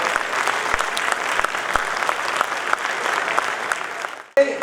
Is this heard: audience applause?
yes